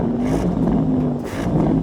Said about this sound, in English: Go on, rev up the Porsche.